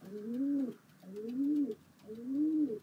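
A crow in Sapporo gives three soft, low, warbling calls at an even pace, each about three-quarters of a second long. The calls are fairly faint and close, with little else around them.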